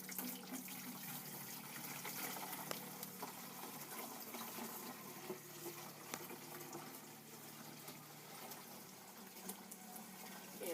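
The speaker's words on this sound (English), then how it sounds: "I'm going to put it in a watering can to make it a little bit easier." Water pours steadily into a watering can in a garden, a continuous splashing gush that runs unbroken for about ten seconds with no talking.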